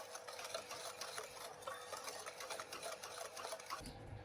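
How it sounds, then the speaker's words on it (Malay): Brownie batter of eggs, sugar, vanilla and instant coffee being stirred in a bowl, a steady, close scraping and swishing that runs unbroken and fairly loud for about four seconds before easing off. "Kemudian kacau sebati."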